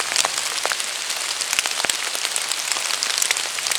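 Steady rain patters through a forest, a dense hiss of drops with scattered sharper taps on leaves and surfaces, close and continuous without any voices.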